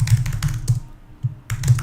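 Bursts of quick keystrokes on a computer keyboard during a coding session, close and clear, with a brief pause in the middle before the typing resumes.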